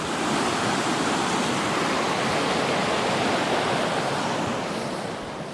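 A river runs along a rural property at the base of the Sangre de Cristo mountains, giving a steady, loud broadband rush of flowing water that holds constant throughout and fades slightly at the end, with no voices.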